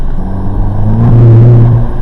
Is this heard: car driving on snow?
yes